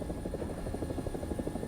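An AB 205 A-1 Italian UH-1H helicopter in a video game, its steady rotor thump and engine drone filling the whole stretch at an even level, with no talk.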